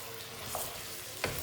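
Sliced onions and tomatoes sizzle gently in a pot of beef karahi while two brief stirring scrapes cut through the soft frying.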